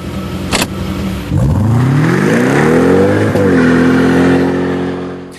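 A car close by idles, then revs hard and accelerates, its engine note climbing steadily in pitch and staying loud as it pulls away, with no talking.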